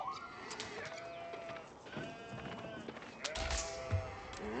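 Sheep bleat in the Mountain Clearing map of an Age of Empires-style strategy game as the Chinese faction plays against English, with faint animal calls and soft hoof clip-clops over a steady ambient bed of game sounds.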